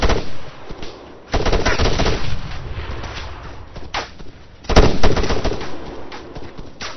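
Machine gun fire in the Arma 3 video game, two loud sustained bursts of rapid automatic shots, each ringing out and fading, close and heavy with no voices over them.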